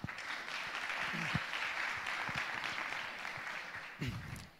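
Audience applauding at a low-tech panel discussion forum, steady clapping from a crowd for several seconds, moderately distant.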